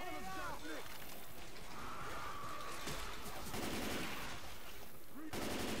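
Rapid bursts of gunfire with explosive rounds in Left 4 Dead 2 crackle and pop almost without pause, with players talking throughout.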